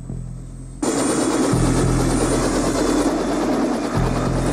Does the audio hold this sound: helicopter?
yes